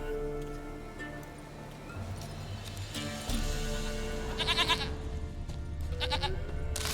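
A goat in The Witcher 3: Wild Hunt gives a few short bleats over steady in-game music and ambient ticking, the calls coming in brief bursts midway through and again near the end.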